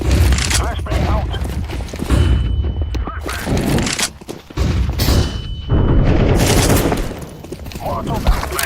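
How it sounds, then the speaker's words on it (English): Counter-Strike 2 match audio with dense gunfire bursts, booms and a high ringing tone typical of a flashbang going off, loud and continuous with voices talking over the action. "Flashbang out."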